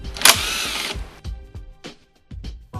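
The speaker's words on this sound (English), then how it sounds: "Remove the 2 bolts." A power tool whirs briefly, loosening bolts on a Bajaj Pulsar NS 200 motorcycle during seat removal, followed by a few short clicks and knocks as parts are handled.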